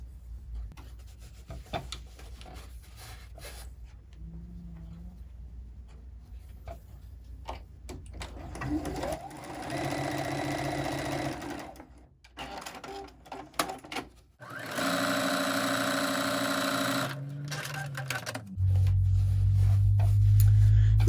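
A sewing machine stitches a fabric postcard in a few short bursts of rapid mechanical whirring and ticking, with quieter handling and fabric rustling between them and a louder continuous run near the end.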